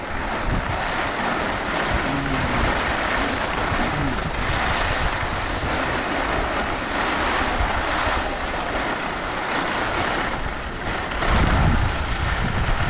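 Strong wind buffets the microphone while skiing at Lake Tahoe, a steady loud roar and rumble that fills the whole stretch with no talk over it.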